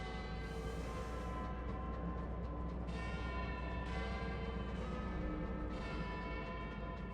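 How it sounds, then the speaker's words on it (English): Tower bells chime from the Tower of Chimes, the former Big Ben of a fallen London in the game Sunless Skies, ringing in several swelling, resonant strikes over a steady low drone. "Is that the sound of the Tower of Chimes?"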